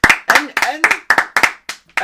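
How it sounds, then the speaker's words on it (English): Podcast hosts clap their hands in a quick, slightly uneven run of about eight sharp claps, close and loud, with voices mixed in. "Let's clap it up for the Rays"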